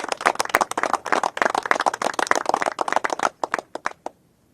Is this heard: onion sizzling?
no